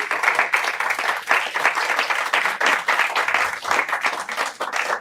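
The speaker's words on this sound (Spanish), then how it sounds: "Otro aplauso para el maestro." An audience in a library lecture hall on twentieth-century popular song gives a speaker sustained, even applause for several seconds, full and close with no voices standing out.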